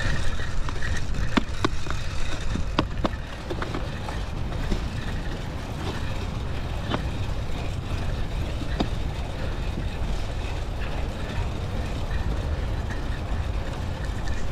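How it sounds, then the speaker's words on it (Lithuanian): Steady rumble of bicycle tyres rolling over a rough trail with wind noise, scattered clicks and rattles throughout, and no one talking. "Mėgaukitės dviračio skleidžiamais garsais."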